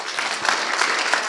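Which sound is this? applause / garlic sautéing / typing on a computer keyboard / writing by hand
applause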